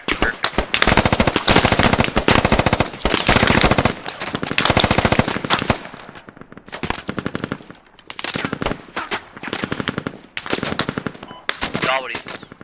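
Machine gun fire rakes into trees during a military drill, loud rapid bursts of automatic shots close by, several long strings broken by short gaps, with faint voices between bursts.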